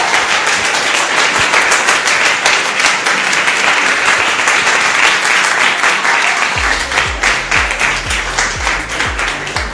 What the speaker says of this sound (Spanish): un fuerte aplauso a su compañera